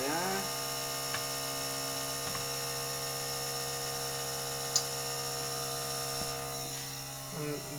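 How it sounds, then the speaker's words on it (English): A PerfectDraft home beer machine pouring Leffe Blonde Belgian beer gives a steady, droning electric hum that runs throughout, with a few faint clicks and a brief louder tick partway through. "The machine is making a bit of noise"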